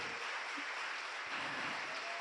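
A church congregation applauds steadily, a dense even wash of clapping that stays at a moderate level throughout with no voices over it.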